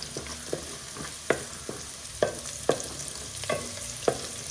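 Curry leaves hit hot oil in a frying pan over a low flame and crackle, with sharp pops and scraping stirs recurring at a steady pace, close and fairly loud, no voices.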